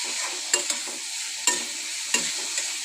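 Green chilli, onion, tomato and peanuts are stirred in a hot pan, giving a constant sizzling hiss with a few sharp spatula scrapes and knocks at irregular intervals.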